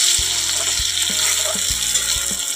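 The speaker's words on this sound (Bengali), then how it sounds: "কষানো হয়ে গেছে আলুগুলো" Potatoes sautéing in a pan while spices are stirred in, giving a steady close sizzle and frying hiss with a few soft knocks from stirring, no voices.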